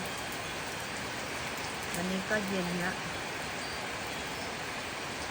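Steady rain falls outdoors after several hot, humid days, making a continuous even hiss that fills the whole clip, with someone speaking briefly over it partway through.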